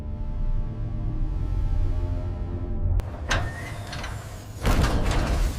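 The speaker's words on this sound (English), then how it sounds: "The capture latches engage." Space station modules docking give a low, humming mechanical drone, then sharp clunks and a sliding, latching rattle as the capture latches engage, with heavy thuds rising toward the end.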